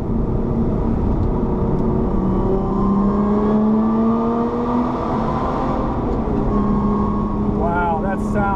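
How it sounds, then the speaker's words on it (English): A loud supercharged Lotus Evora engine droning as it downshifts, its pitch sliding between gears, with a quick blip of revs near the end and a voice underneath. "Give you a little bit of downshift here."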